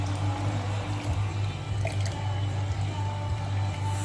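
Really hot homebrew water running through a coil in a thin trickle after the boil, a steady close liquid flow over a constant low hum.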